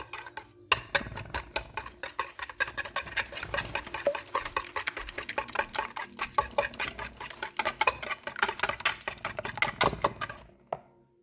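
Pumpkin waffle batter ingredients being mixed in a bowl, a long run of rapid, sharp clicking and tapping strokes of a utensil against the dish, loud and close, fading out near the end.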